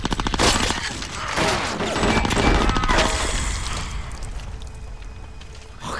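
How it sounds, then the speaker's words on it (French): Bullets crack and ricochet in a chaotic burst of gunfire during a firefight in the Xbox game Conker: Live and Reloaded, loud and dense throughout with layered smashing impacts. "Les balles ricochent."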